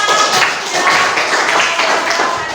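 A group of people applauds together at the close of a lesson, a dense, steady wash of clapping that holds at an even level for the whole stretch.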